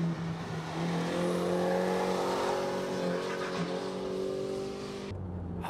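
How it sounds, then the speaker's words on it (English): A van being drifted on a test drive: the engine revs loud and close for several seconds with a sustained droning roar, then cuts off abruptly near the end. "It's the first time in my life to van drift."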